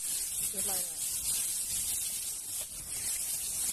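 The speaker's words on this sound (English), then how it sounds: "the reason why I'm taking my spray paint is because like this is gonna be outside" A can of black spray paint hisses in a steady, close stream outdoors, with a brief spoken remark near the start.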